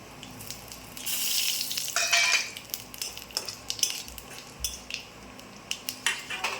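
Black cumin seeds go into hot oil in a pan after fish has been fried in it, a bright sizzle that swells and settles, with utensil clinks and light scraping against the pan.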